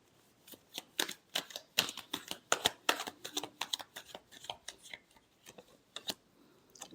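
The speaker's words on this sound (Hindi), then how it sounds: "Last shuffle." Tarot cards are shuffled by hand in a quick series of crisp riffling clicks and slaps, close and fairly quiet, with an irregular rhythm that carries on for several seconds without talk.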